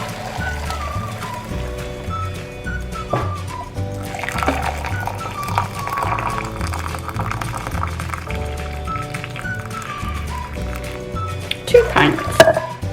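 Two pints of water pour and splash steadily into a pot, the liquid sound rising in the middle and near the end over light background music.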